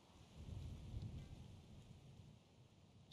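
Light rain falls outside in a faint, steady patter over a soft low rumble, quiet and unbroken, ending with a brief louder knock.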